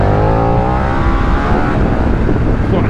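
A Paika motorcycle engine roars loudly while being ridden, a dense low rumble with rising harmonic tones as the throttle opens, steady and close throughout.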